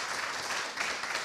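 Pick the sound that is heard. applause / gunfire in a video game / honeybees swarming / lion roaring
applause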